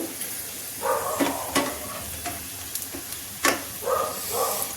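Urad dal kachoris cook in oil in a pan, with a continuous sizzling hiss broken by bursts of louder bubbling and a few scraping stirs, close and with no talk.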